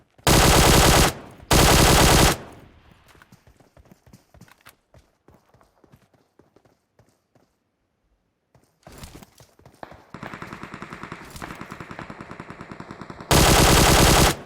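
Bursts of automatic gunfire in the mobile battle royale game PUBG Mobile: loud sustained volleys at the start and end, with quieter scattered shots and footsteps between, no talk.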